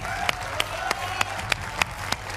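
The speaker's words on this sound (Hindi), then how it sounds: "तालियों के साथ स्वागत कीजिए पहले तो अपना" A studio audience on a televised debate show claps to welcome students, a faint, regular patter of hand claps at a steady beat beneath a low murmur.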